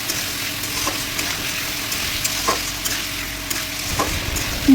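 Spices sautéed with salt in a pan for a rohu fish curry crackle in a steady, fairly loud sizzle, with regular scraping stir strokes cutting through every second or so.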